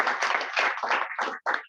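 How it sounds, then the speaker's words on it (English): Audience at a Kiwanis club installation ceremony clapping in short bursts that taper off, the applause fairly close and ending abruptly. "Everyone, round of applause for Gary."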